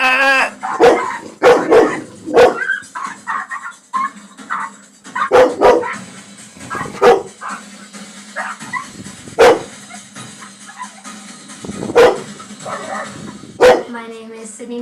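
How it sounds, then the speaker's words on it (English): Deep, aggressive barking from a male pit bull on a television, coming in repeated loud bursts of one to three barks. People talk between and under the barks. "Was it a pit bull bark, was it?"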